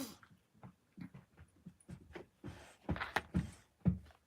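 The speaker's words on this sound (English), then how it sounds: "Just have a dog come down" A dog close by gives a run of faint, soft whimpers and snuffles with rhythmic pauses, heard on its own without speech.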